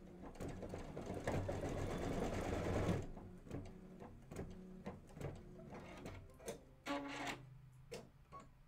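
A sewing machine stitches an outline stitch on a Kimberbell pillow project, running in a dense, steady whir for about three seconds, then continuing in shorter stop-start bursts of rapid stitching.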